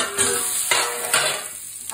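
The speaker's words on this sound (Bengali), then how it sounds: "ওখানে লাস্ট একটা ভাজা হচ্ছে" Vegetables sizzle steadily in hot oil in a home kitchen, with several short scraping stirs of a utensil against the pan.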